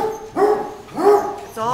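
A dog barks twice in quick succession, fairly close and loud, inside the big-dog area of a dog boarding resort where dogs roam indoors and out.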